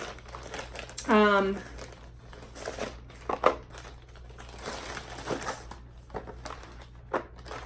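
Cardboard shipping package opened along a cut edge, with loud crinkling and crumpling of packing material near the start and scattered softer rustles and taps afterward; a voice is heard at times.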